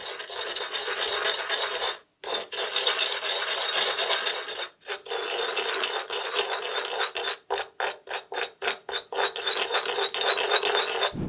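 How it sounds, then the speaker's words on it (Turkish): A spoon scraping and rasping around a bowl while stirring white vinegar with sugar and salt for sushi rice, steady grinding strokes broken by short pauses, then quick choppy scrapes toward the end. "Sirkeyi de ekliyorum. Karıştırıyorum. Şekeri tuzu eritiyorum."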